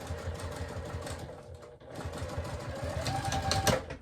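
A sewing machine runs steadily at close range, stitching back and forth over a thick spot in a purse seam, its needle chattering in a fast even rhythm with a brief pause partway.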